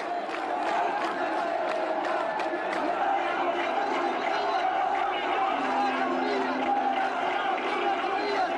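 A large, enthusiastic crowd in central Tripoli cheers and shouts for Colonel Gaddafi, a dense, continuous roar of voices with whoops and chants rising throughout.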